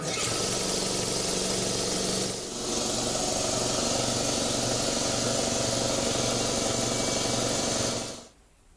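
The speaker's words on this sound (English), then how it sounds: "So the air compressor has come up to full pressure" Air compressor running steadily while it builds up pressure to blow out a sprinkler system, a loud continuous mechanical drone with a brief dip partway through, cutting off near the end.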